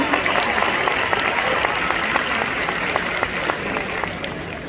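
An audience claps steadily to welcome Emre, violinist and keyboardist, onto the stage at a band introduction, a dense, continuous patter of many hands with a few louder individual claps standing out.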